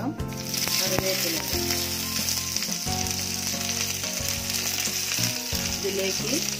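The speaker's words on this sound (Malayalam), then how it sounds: "കടുക് പൊട്ടിക്കഴിഞ്ഞ ശേഷം കറിവേപ്പില" Curry leaves crackle and sizzle in hot coconut oil with popped mustard seeds, a steady close frying hiss while a tomato chutney is made, with music playing underneath.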